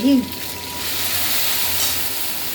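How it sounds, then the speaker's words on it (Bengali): Asafoetida and curry leaves frying in hot oil give a steady, loud sizzle throughout, with a brief tonal clink at the very start. "আমি হিংটাকে একটু ভাজা করছি ক্যারি পাতাটাকে"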